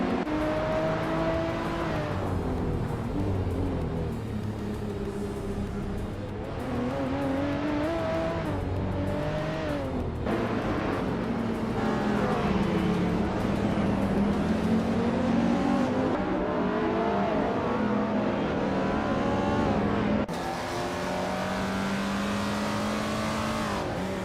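Race cars in a racing video game rev and accelerate continuously, engine pitch climbing and falling across gear changes, loud and close with no speech.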